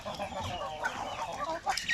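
Laying hens cluck in a poultry coop during hot weather, a faint, busy chorus of overlapping clucks and murmurs with no clear pauses.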